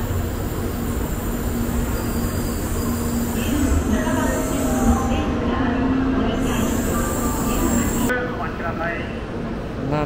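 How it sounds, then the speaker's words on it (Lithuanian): A Japanese high-speed train rolls past in Tokyo with a loud, continuous rumble and a squealing wheel tone throughout, while a voice is heard over the noise. "Na, taip atrodo greitasis traukinys."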